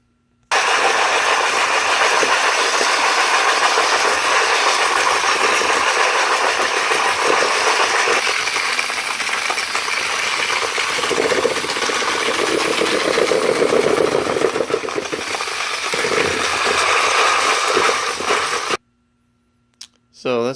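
The cut edge of a glass bottle is ground smooth, a loud steady abrasive whirring and rasping that carries on evenly for nearly the whole stretch, then cuts off abruptly near the end.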